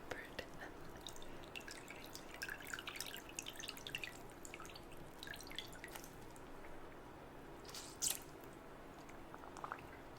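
Water drips steadily in an ASMR spa role play, with many close, soft drips and squishy splashes over a quiet hiss and one brighter splash near the end.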